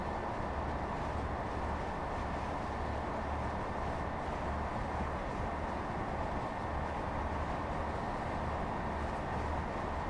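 A Class 158 diesel train in Train Sim World 3 rumbles steadily as it slows, with a continuous low engine drone and a faint high whine, no voices.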